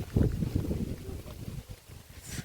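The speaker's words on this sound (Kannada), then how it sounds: "ಹಾ ಚಂದ ಗಾಳಿ ಬರ್ತಾ ಉಂಟು" Wind blows outdoors on a casual Sunday walk to see newly planted nursery saplings. It makes a low, gusty rumble across the microphone that swells and fades.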